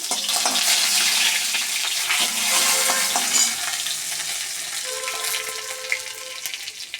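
Two dried red chillies and three bay leaves crackle and sizzle in hot oil for a tempering, a steady loud frying hiss with scattered pops and stirring, no voices.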